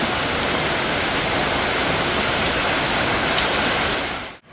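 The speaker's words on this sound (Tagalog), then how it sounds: "Bigla pong umulan ng malakas mga sulat." Heavy rain with large drops pours down in a steady, loud, unbroken roar, close by and with no voices, then cuts off abruptly at the end.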